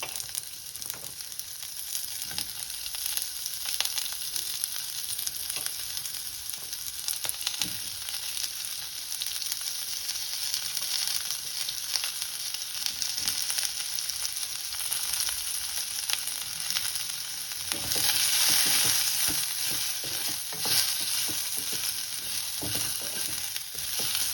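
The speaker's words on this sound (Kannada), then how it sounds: "ಎರಡು ಈರುಳ್ಳಿ ಹೆಚ್ಚಿ ಇಟ್ಕೊಂಡಿದ್ದನ್ನ ಹುರ್ಕೋತಾ ಇದ್ದೀನಿ." Chopped onions fry on medium heat in a pan, a constant crackling sizzle with occasional stirring scrapes, close and unbroken for a long stretch, growing a little louder near the end.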